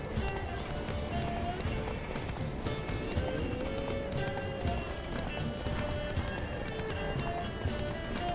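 Horse galloping in The Witcher 3, steady rapid hoofbeats under a continuous busy game soundscape with music, with no break across the stretch.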